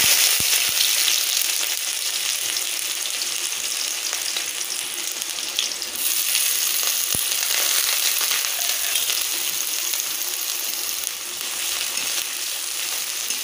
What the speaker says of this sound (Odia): ଏବେ ପିଆଜ କଟା ଦେବା